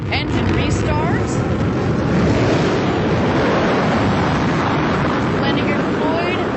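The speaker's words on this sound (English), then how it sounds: "we're going to get the BE-3 engine to restart" Blue Origin New Shepard booster's BE-3 engine restarting for landing: a loud, steady broadband roar fills the whole stretch without letting up, with faint voices underneath.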